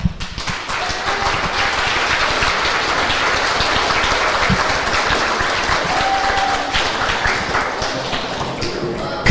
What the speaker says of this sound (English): Students, join me in giving your families and our teaching staff a round of applause.